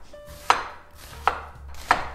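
Half of a large onion thinly sliced with a knife on a cutting board for spicy pork bulgogi, three crisp, evenly spaced cuts ending in sharp knocks, close and alone.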